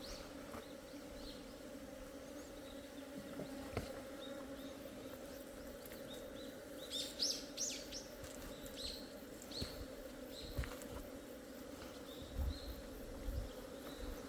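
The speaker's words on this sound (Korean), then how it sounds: "내 봉장에서 설치고 있는 도봉의 소리는 굉장히 싸납다 이렇게 생각하시면 돼요" Robber honeybees raid an apiary, a low, steady buzzing drone filling the yard, with sharper nearby wingbeat whines and faint taps and rustles rising now and then.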